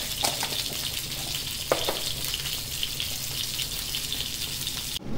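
Rui fish pieces sizzle steadily in hot oil in a pan, a close, continuous crackling fry with a few sharper pops and a brief clatter near the end.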